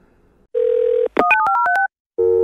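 A telephone dial tone hums steadily, then a quick run of touch-tone dialing beeps follows, and the tone returns at the end. The sound is clean and electronic, with no talking.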